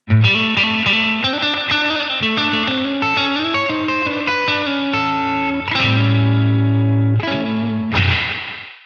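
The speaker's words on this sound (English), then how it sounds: "So it's quite a punchy sounding spring reverb." Electric guitar through the spring reverb setting of a NUX Atlantic pedal, punchy slightly overdriven notes and chords with a bright springy tail, played continuously and alone, ending on a few struck chords that ring out.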